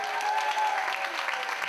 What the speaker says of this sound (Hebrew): מגיע להם המון מחיאות כפיים